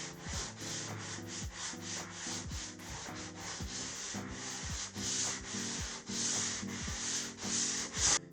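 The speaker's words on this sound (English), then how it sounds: "we've taken a sanding block and we've sanded all the high spots off" A hand sanding block rubs back and forth over drywall compound on a ceiling repair, producing a faint, rhythmic scraping of repeated strokes, close and alone.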